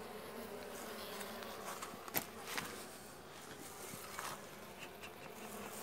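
Honeybees buzz steadily around a weak hive in June, a dense, continuous drone close by with a few sharper passes near the microphone and no talk.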